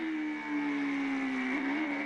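IndyCar race car engine holding a steady high rev under a drive-through penalty, one continuous sustained tone with a small wobble near the end, fairly loud and close with no talk over it.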